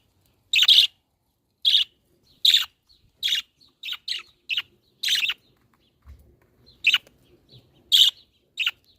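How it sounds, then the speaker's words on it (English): Pet budgies outdoors give a string of short, bright chirps, about a dozen separate calls at an uneven rhythm, close and clear against a quiet background. "The budgies are very excited because they can hear other birds"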